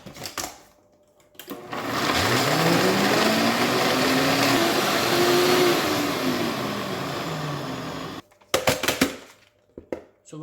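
Blender grinding cinnamon and other spices into a fine powder, a loud motor whine that climbs and falls in pitch for about six seconds, with clunks and handling noises before and after.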